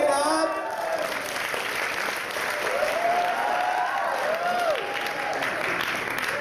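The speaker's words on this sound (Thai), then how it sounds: "ขอเสียงปรบมือด้วยครับ" Audience clapping for a talent show team aboard a cruise ship, a steady full round of applause with a sliding voice or whistle-like tones rising over it midway.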